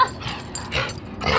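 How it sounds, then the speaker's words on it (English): A neighbor's dog barks and yips in a short, muffled burst heard from some distance, set against a steady background hiss. "That's my neighbor's dog."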